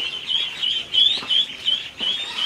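Ducklings on a duck farm in the morning give a run of high, thin peeping calls in quick repeated bursts, close by and fairly clear.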